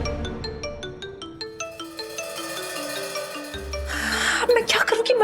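Incoming-call phone ringtone: a repeating electronic melody of bright tones in a steady rhythm, followed by a louder swell of dramatic music, with voices speaking over it.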